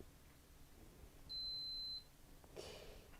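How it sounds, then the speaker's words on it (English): A Bernina sewing machine's stitch regulator gives a single short, clean electronic beep, fairly clear above a quiet room, followed by a faint brief rustle. "The other thing you have is a beep noise."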